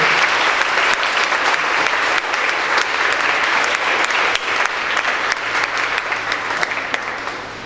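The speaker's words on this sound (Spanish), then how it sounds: "¿Le podemos dar un aplauso a nuestro Dios?" Members of a church congregation applaud in a sustained, loud wave of clapping that holds steady and eases slightly toward the end.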